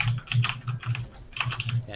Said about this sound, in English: Yeah, typing.